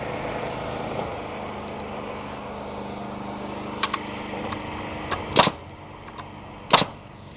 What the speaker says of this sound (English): let's finish nailing this down